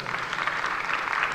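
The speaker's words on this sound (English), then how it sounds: "A round of applause." Audience applause after a startup pitch at a venture capital program grand finale, a steady, dense clapping that fills the short moment without pause.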